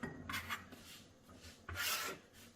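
A knife blade scrapes chopped peppers across a cutting board into a line, making two short, soft rasping strokes close by with a quiet pause between them.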